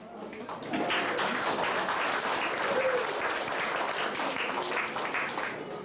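Audience at an afternoon seniors concert applauds a singer, a burst of clapping that starts after a short quiet moment, stays fairly loud and steady, then tapers slightly near the end.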